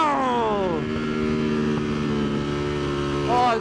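A high-revving 2019 Ducati Panigale V4 S motorcycle engine winds down from a shrill pitch to a steady drone, then briefly climbs again, heard from on board.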